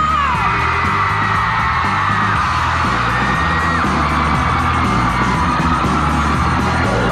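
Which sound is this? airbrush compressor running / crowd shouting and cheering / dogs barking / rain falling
crowd shouting and cheering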